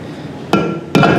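A rubber mallet strikes a shaft part in a motorcycle crankcase during assembly, giving two sharp, close knocks about half a second apart over a low background hum.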